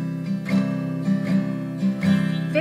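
Simple open guitar chords strummed at a steady rhythm during a beginner lesson, several close, even strums ringing one into the next with no talking.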